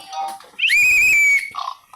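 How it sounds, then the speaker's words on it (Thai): A whistle gives a single steady, shrill tone of about a second, blown to set off a sound-activated jumping toy pig, with short faint noises before and after. "พอเป่านกหวีดแล้วครับมันก็จะสามารถกระโดดเองได้นะครับ"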